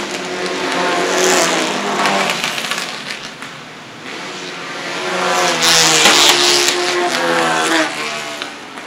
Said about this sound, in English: This car is 78 going by.